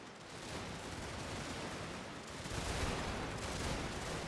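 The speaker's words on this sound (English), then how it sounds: "this unit of my Marines is taking most of the fire" Massed musket fire from battle in the strategy game Shogun 2, with Marines and skirmishers in line: a dense, continuous crackling roar of overlapping shots that swells slightly midway, with no talking.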